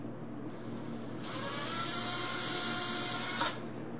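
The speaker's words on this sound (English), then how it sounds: "and drill a little starting hole there." A power drill bores a small starting hole while fitting a replacement door, a brief high whine rising and holding for about two seconds before cutting off, fairly quiet and close.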